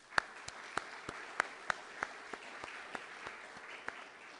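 Scattered, sparse hand claps from a small audience at the 2014 SEAS Pelton engineering awards ceremony, a dozen or so distinct claps spread unevenly and fading toward the end.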